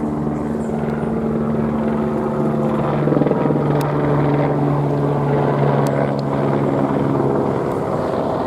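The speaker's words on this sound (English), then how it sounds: "Helicopter approaching, so we're going to see what the chances are of a flyover in this area." A helicopter approaching overhead in Los Angeles, a steady low rotor drone that holds loud and continuous outdoors with light wind buffeting.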